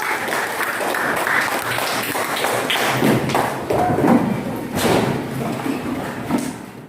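Children in a classroom clap their hands together, a busy, uneven patter of claps mixed with thumps and knocks from the room, fairly close and moderately loud.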